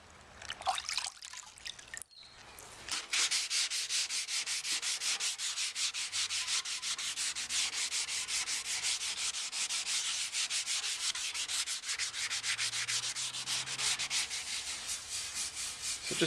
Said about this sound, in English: So just after using some 600 wet and dry, I can actually feel this a lot smoother.